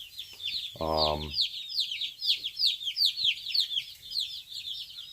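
Young chickens cheep and chirp continuously in a brooder box, a dense, high chatter close by, with a brief low deeper call early on.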